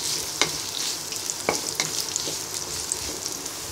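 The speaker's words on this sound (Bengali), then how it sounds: "এবার পেঁয়াজটাকে ব্রাউন কালার করে ভেজে নিব।" A cup of chopped onion fries in hot soybean oil as it is browned for a Bangladeshi rida fish vuna. A soft, steady sizzle runs throughout, with occasional sharper crackles and stirring scrapes.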